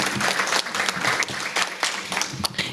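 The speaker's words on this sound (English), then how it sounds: "Please give them another round of applause." Audience applause fills a Manatee Tiger Bay Club discussion event on AI, a dense, steady burst of many hands clapping at close range for a few seconds with no talk over it.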